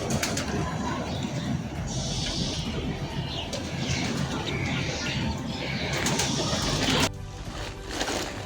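A flock of pigeons coos and flutters while eating scattered wheat alongside chickens, a steady dense bed of soft calls and wing noise close by, with a faint voice briefly present.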